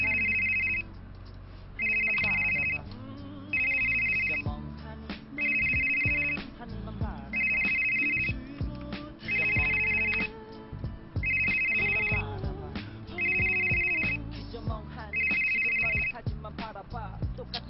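A telephone ringtone repeats loudly and steadily, about nine identical electronic ring bursts spaced evenly, close up, before a call is answered.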